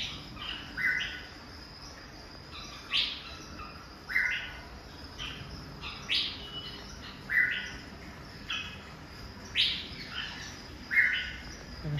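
Birds chirp inside an aviary, with short bright calls and tweets repeating every second or so over a soft steady background hum, moderately near and without talk.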